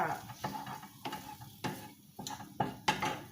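Rice and egg being stir-fried in a pan, quiet rhythmic scraping and tossing strokes with a light sizzle, roughly one stroke every half second.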